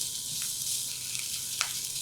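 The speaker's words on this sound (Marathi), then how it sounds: "फार नाही एक तीन चार मिनिटं भाज्या परतून घेऊया" Mixed vegetables, corn and tomato among them, sizzle steadily as they are sautéed on a hot griddle, a continuous close frying hiss with faint stirring clicks and no voices.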